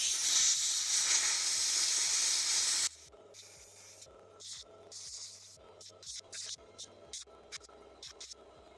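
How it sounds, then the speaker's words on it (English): Compressed air line blowing grease out of a disassembled Agrati Capri 98 motorcycle engine: a loud continuous hiss for about three seconds, cutting off abruptly, followed by quieter clicks and handling noises. "So using an airline, I've been blowing out the grease."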